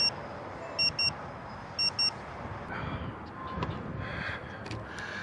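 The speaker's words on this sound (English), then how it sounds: "Once that low battery beep started happening" A drone's low-battery warning sounds as two short, bright double beeps in quick succession early on, followed by steady outdoor wind and rustling.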